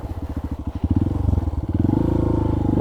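A Honda CRF150L trail motorcycle on a slippery forest track, its single-cylinder engine thumping in a steady rhythm that rises into a louder, sustained drone as the rider throttles up, close to the microphone.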